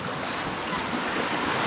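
Sea waves of the Cantabrian Sea at Faro de Higuer wash in a steady, dense roar of surf with wind, loud and continuous, with no voices.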